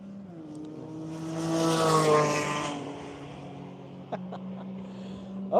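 A Mazda Miata race car drives on a track, its engine note drawn out and droning, rising and then fading as it passes.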